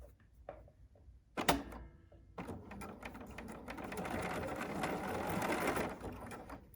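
A Bernina sewing machine runs a number 3 jersey stitch on fabric, starting after a few handling clicks and thumps, then whirring steadily and close for several seconds before stopping.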